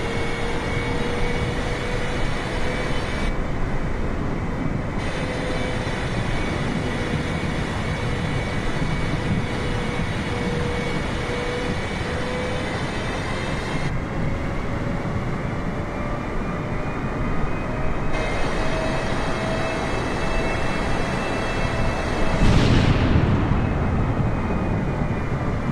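Boeing 747 landing at Tampa International, a steady loud roar of jet engines heard from inside the cabin, droning evenly with a brief louder rumble near the end.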